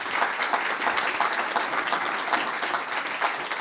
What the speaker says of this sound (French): Je crois qu'on peut l'applaudir avec chaleur.